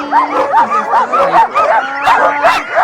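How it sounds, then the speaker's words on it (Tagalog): Several sled dogs in Lapland bark, yip and howl excitedly together at close range, a dense, overlapping chorus of repeated high calls. "Pero mga aso, excited na sila."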